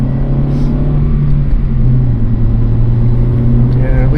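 A Honda engine with VTEC drones with a deep, steady rumble, its pitch stepping up partway through as the revs rise, close and loud throughout.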